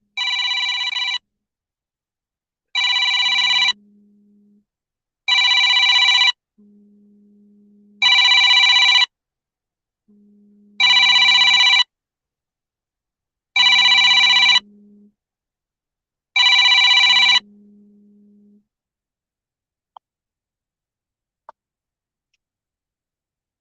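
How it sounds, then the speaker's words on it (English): A telephone rings in seven evenly spaced bursts, each about a second long, loud and close with nobody talking, then the line falls silent apart from two faint clicks. "Sorry, I had a phone call."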